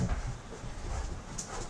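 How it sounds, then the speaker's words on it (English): An excited pet dog named Milo, worked up after pooing, whimpers faintly and scrambles around the room, with soft thumps and rustling close by and no voices. "Sorry, the dog's going mental."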